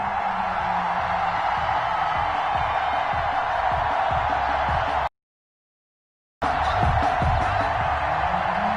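A home stadium crowd at a Dolphins football game against the Colts roars and cheers in a dense, sustained wash of noise, broken by a short silent gap before the cheering resumes.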